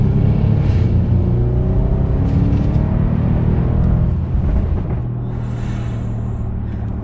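A modified Audi S8 D4 engine revving hard and accelerating, a loud, deep, continuous roar with rising pitch that eases slightly near the end.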